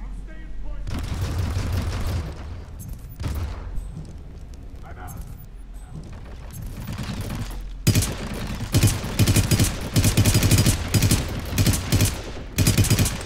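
Rapid gunfire crackles in Hitman: Absolution, broken bursts of shots early on giving way to louder, sustained volleys in the second half, close and harsh, with a voice talking between them.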